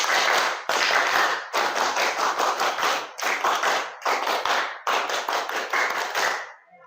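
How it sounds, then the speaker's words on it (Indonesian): Children in a classroom perform the rhythmic Indonesian scout clap, tepuk pramuka, twice: loud close group clapping in patterned bursts separated by short pauses, ending abruptly. "Dua kali tepuk pramuka."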